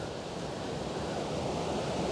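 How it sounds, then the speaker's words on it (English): Steady rushing water flows without pause beside a public footpath on Swansbrook Lane, Feckenham, a close, even wash of noise with no voices. "lovely the sound of the water there as well."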